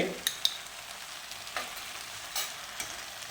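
Schezwan noodles with sauce are tossed and stirred in a pan, making a quiet, steady sizzle broken by sharp spoon scrapes and taps at irregular intervals.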